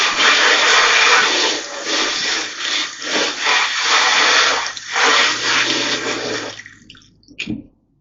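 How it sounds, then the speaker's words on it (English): A garden hose sprays a steady, loud hiss of water over a wetsuit, with the flow shifting and spattering as it moves across the material before cutting off near the end. "you hose it off thoroughly"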